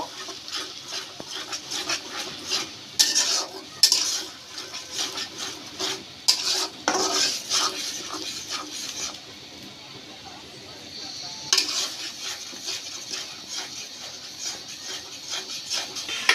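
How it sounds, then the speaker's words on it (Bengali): Spice paste sautéed in oil for a sweet, sour and spicy olive pickle, giving a steady scraping stir with soft sizzle and several louder clatters of the spoon against the pan, close by. "মশলাটাকে ভালো করে তেলের মধ্যে আমি কষিয়ে নিব"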